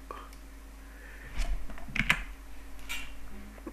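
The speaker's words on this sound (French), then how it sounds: "on appuie sur la touche X du clavier" A computer keyboard key is pressed while working in Photoshop, giving a few quiet, close plastic clicks spread over a few seconds against a faint background hum.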